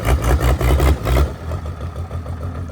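Mercedes diesel engine with a working turbo, running loud and close with a rhythmic throbbing pulse that settles into a quieter, steadier idle.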